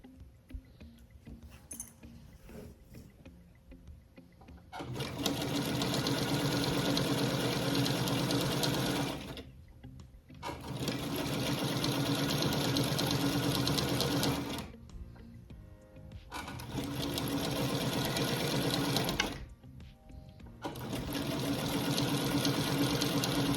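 A 1960s–70s model sewing machine stitching a log cabin chip quilt, running in four steady bursts of several seconds each with short quiet pauses between, loud and close.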